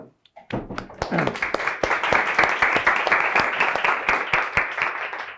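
Audience applause welcoming a guest speaker at an eBay lecture, starting with a few scattered claps and quickly building into steady, moderately close clapping from a small crowd that continues evenly to the end.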